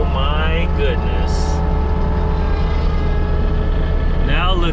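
A rented forestry mulcher clears raw land, its spinning drum grinding into brush as a loud, steady mechanical roar with harmonic engine drone that runs throughout, with a voice speaking over it.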